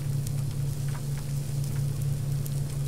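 Steady rain in the survival video game Subsistence, a constant soft hiss with a low droning hum underneath, holding evenly at a moderate level throughout with no speech.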